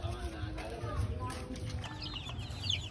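Young chickens cluck and peep softly while pecking at feed, a busy low chorus of small calls heard quietly with ambient noise and faint voices nearby.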